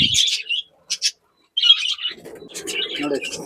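Caged lovebirds kept for sale give sharp, high chirps in short bursts separated by brief silences, close by, with a voice speaking under the later calls.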